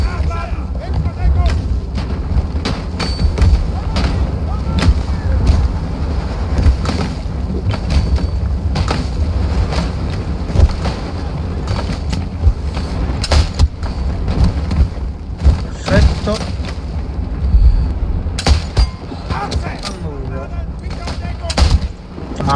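Artillery shells and bombs exploding in the World War I shooter Isonzo, with heavy booming blasts and gunfire crackling over wind noise throughout while a player talks over the action.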